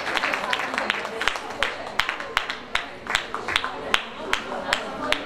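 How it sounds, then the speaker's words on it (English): Scattered, uneven clapping from an audience at a women in leadership event held at a school, with separate sharp claps ringing out at irregular intervals rather than a full roar, moderately near. "She really deserves a round of applause because her introduction was fabulous."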